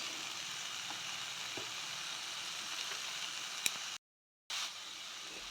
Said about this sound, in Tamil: இப்போ இதுக்கு தேவையான காய்கறியை 1 பை 1 போடுறோம்